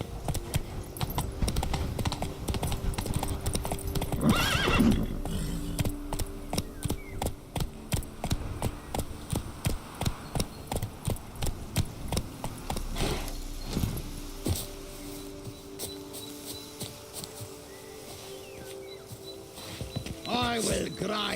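Roach the horse gallops in The Witcher 3, steady rhythmic hoofbeats running through the whole stretch at moderate level, with game sounds and a voice speaking over it.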